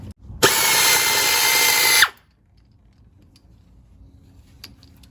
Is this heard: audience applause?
no